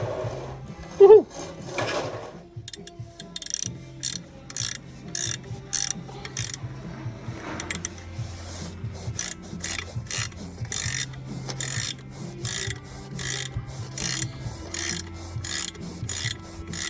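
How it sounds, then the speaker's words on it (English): Ratchet spanner clicking in rapid repeated bursts while a 2010 Ford Ranger differential is reassembled, up close and fairly faint, with a low mechanical hum underneath and a brief clank near the start. "Ratchet spanners are the greatest invention of all time."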